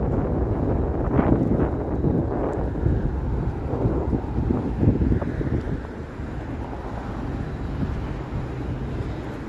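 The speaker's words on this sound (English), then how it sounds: "The wind tunnel is very real in Toronto." Strong gusting winter wind roars steadily across the microphone between Toronto skyscrapers, rumbling low and loud with surging bursts throughout, no voices.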